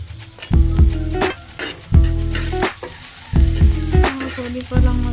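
An egg fries in a pan with loud, close sizzling and crackling that swells and eases in repeated bursts every second or so, with no talking.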